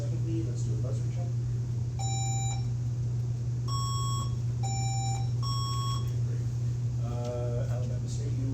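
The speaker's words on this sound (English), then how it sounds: "Let's do a buzzer check" Quiz-bowl buzzers tested one after another at a scholarship competition, a series of steady electronic beeps of differing pitch, each about half a second long, sounding over a constant room hum and faint background chatter.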